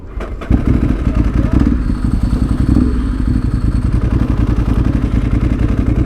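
A motorcycle engine cuts out and stalls with a clattering thump near the start, followed by a low, steady rumble. The sound is loud and close.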